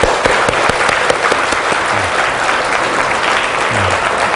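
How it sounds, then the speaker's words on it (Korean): A congregation at a church graduation service for a training course claps together, a dense, steady burst of applause that stays loud and close throughout. "그런 의미에서 우리 지역 모임 순장님들에게 다시 한번 감사의 박수."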